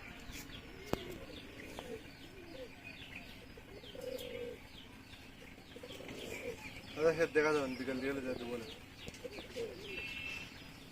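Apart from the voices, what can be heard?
pigeons cooing in loft setup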